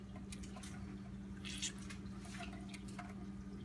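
Water dripping and trickling from a soaked, boiled newspaper fire starter as it is squeezed, soft wet drips and squishes close by over a steady low background hum.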